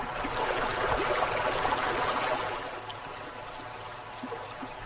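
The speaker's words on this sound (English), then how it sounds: "At its peak, a current of 9 knots drains the reef." Rushing tidal water drains off a coral reef in a strong current, a steady broadband wash that is loud at first and eases slightly after a couple of seconds, with occasional small splashes.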